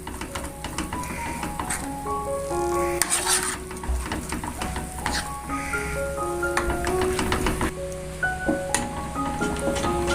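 Caramel being stirred in a pan for pudding, with a steady scraping and stirring texture over a soft sizzle and a few utensil knocks, close and continuous throughout.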